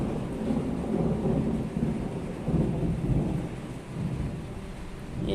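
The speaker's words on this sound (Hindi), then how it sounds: "इतने जम से बादल, बिजली, गड़गड़ाहट हो रही है और पानी भी गिरने लगा।" Thunderstorm on an early morning, rolling thunder rumbling continuously over steady heavy rain, loud and close throughout with no talking.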